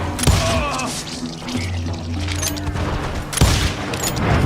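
Gunshots ring out in the Wild West shooter Call of Juarez: Gunslinger, with two loud sharp blasts a few seconds apart over a rumbling, crackling battle background, and brief talk between them.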